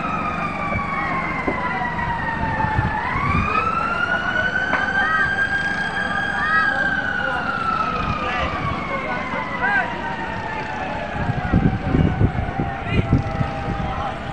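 Fire truck sirens wail at a residential fire along a river in Tanza Uno, Navotas City, rising and falling in long sweeps with a second siren layered beneath, loud and close, while people talk in the background.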